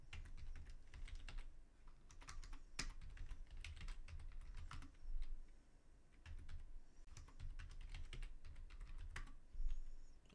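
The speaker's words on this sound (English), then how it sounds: "You may have to type it multiple times, your password." Someone types a password on a computer keyboard, the keystrokes arriving in steady close runs of soft clicks with a few brief pauses and no voices.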